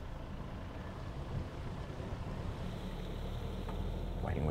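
A medium SUV's engine rumbles steadily under throttle while climbing an off-road slope, a dense broadband drone with wind-like rush that swells slightly toward the end; no voices.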